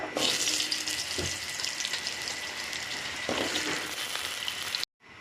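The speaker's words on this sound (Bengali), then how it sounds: "এবার মাছ ভাজার তেলের মধ্যে আমি আলুগুলোকে একটু ভেজে নেব" Potatoes frying in oil that was first used for frying pangas fish, giving a steady hissing sizzle with occasional bubbling pops that cuts off abruptly at the end.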